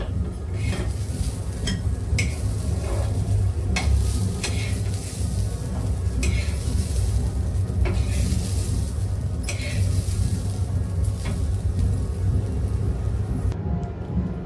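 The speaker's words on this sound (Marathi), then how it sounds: "बघू शकता आता हे मटारना मी भाजून घेतलेले आहेत" Green peas roast in a pan with a steady sizzling hiss, punctuated by repeated scraping clinks of a utensil stirring against the metal, close and continuous throughout.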